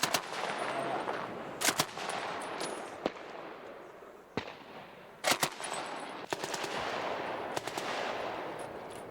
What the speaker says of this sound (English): The men are only firing blanks, but their surprise has worked.